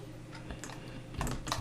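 Computer keyboard keys pressed while working in Blender modelling software, a few scattered light clicks close by with a couple of slightly louder taps near the end, no talk.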